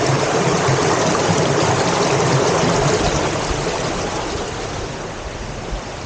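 A river swollen after days of rain rushes along the Gahuti Trail in Fort Mountain State Park, Georgia, a loud, close, continuous roar of water that eases slightly toward the end.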